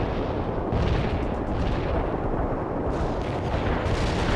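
An artillery barrage in the strategy game World in Conflict, a dense, continuous roll of heavy booming blasts with no gaps, loud and close throughout.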